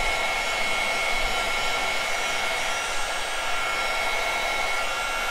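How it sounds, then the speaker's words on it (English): A heat gun blows hot air over the loose fabric flyaways on a handmade hair accessory, a loud, steady, close-up rushing whoosh that runs unbroken throughout. "we'll just kinda hit the heat gun"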